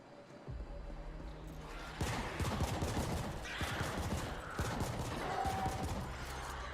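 Bursts of rapid gunfire from weapons in the cyberpunk video game The Ascent, dense overlapping shots and mechanical clatter continuing steadily throughout, loud and without talk.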